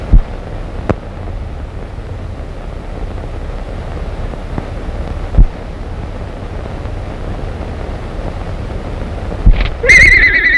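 A horse whinnies near the end of a western film scene, a brief high call over steady wind and outdoor rumble, with a few faint thumps earlier.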